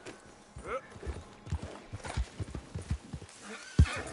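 Horse neighing and clip-clopping hooves in Red Dead Redemption 2, with a whinny early on and a run of close, uneven hoof thuds, ending in one sharp, louder strike, while someone talks softly over it.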